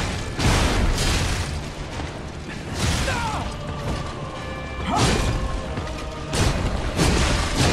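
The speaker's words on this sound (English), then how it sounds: "That's the explosion." A boss attack explosion in the video game Lies of P booms out amid dense, loud game action, with several heavy crashing bursts and mechanical clatter spread across the stretch.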